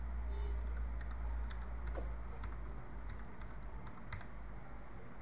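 Typing on a computer keyboard, with quiet, irregular key clicks over a constant low hum and no talking.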